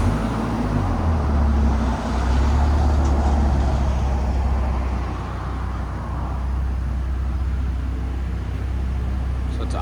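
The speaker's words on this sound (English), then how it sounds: "2011 Volvo C30 with the Borla crossflow muffler." A 2011 Volvo C30 with a 2.5L turbo engine and Borla crossflow muffler idles with a steady, deep, continuous rumble that stays loud and even throughout.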